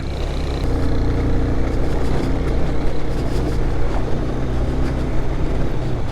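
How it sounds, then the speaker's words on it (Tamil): A motorbike ridden over rough stone-paved off-road track near Ooty gives a loud, unbroken engine and wind rumble that stays steady from start to finish, with no talking. "நம்ம வண்டி ஆஃப் ரோடெலாம் அசால்ட்டாக போமியா"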